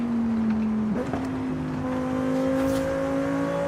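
A Lamborghini engine drones while being driven in Forza Horizon 5. The steady tone shifts with a brief gear change, then holds a constant close, loud hum.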